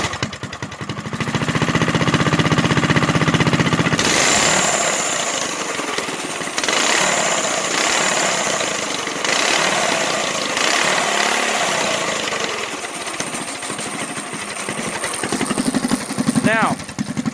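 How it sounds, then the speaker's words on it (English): A three-seater kart engine runs with its muffler removed, a loud, raw motor drone that fills the clip, with a voice talking over it at times. "having the muffler off is really noisy"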